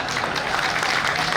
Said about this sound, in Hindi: समझ में आ गया तो ढंग से ताली बजाओ जरा।